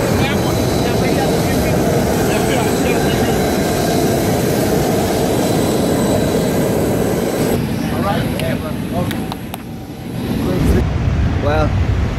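A private jet's engines roar steadily at an airport just after landing, a loud broadband rush filling the scene before easing briefly and surging again, with people talking over it.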